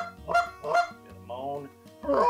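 A Tim Grounds flute-style goose call is blown in short, honking clucks, a few sharp close notes in quick succession, imitating a goose.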